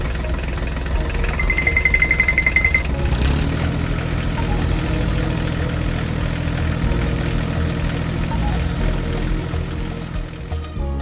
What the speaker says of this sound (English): The forage harvester and tractor arrive at the cornfield.